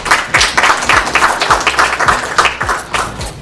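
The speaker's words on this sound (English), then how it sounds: "Clap it up for yourselves." Audience applause at a community meeting, a steady patter of many hands clapping at moderate loudness, with a few sharper individual claps standing out, and no talk over it.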